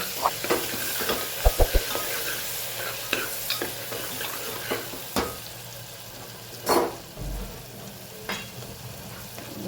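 Red chili powder, turmeric and salt sizzle in a hot pan while a utensil stirs and scrapes with intermittent knocks, the frying hiss continuous throughout.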